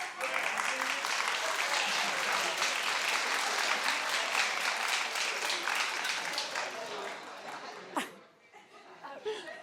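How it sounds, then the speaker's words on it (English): A television talk show studio audience breaks into loud continuous applause mixed with laughter, sustained for several seconds before cutting off sharply near the end, where a brief voice and a few scattered claps remain. "Clap if you believe what they're saying."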